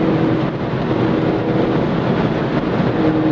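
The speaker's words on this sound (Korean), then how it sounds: "바람 소리에 지지 않고 엔진 소리가 끝까지 살아나서" A Volkswagen Golf GTI engine pulls hard while driving at speed, a steady broad roar mixed with heavy wind noise and road rumble, loud and continuous throughout.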